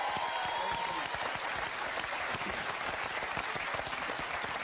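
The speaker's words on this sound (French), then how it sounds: "c'est vos applaudissements" French TV game show studio audience applauds, a thick continuous roar of clapping that holds at an even level throughout, close and bright, with no voices over it.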